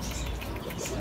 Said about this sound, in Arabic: هذا شنو كاين من الحمام